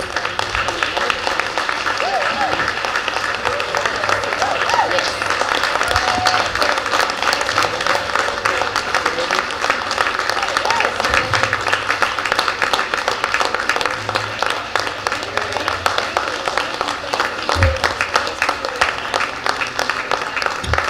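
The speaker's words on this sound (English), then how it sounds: "Keep it clapping while they're coming up." Audience at a school board meeting clapping and applauding loudly and continuously, a dense close crackle of many hands with a murmur of crowd voices underneath.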